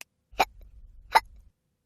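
A narrator's voice imitates hiccups for a children's read-aloud story about a kitty: two short, sharp vocal "hic" sounds, close and clear, spaced under a second apart, with near silence around them.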